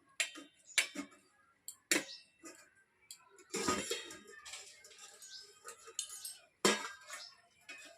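A metal lid comes off a cooking pot of cauliflower korma with a few sharp clinks and taps, scattered light knocks and rattles between them, fairly close and without talk.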